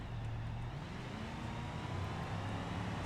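An off-road vehicle in four-wheel drive crosses sand dunes in BeamNG Drive, its engine a steady, dense low drone that holds an even loudness throughout with no talking.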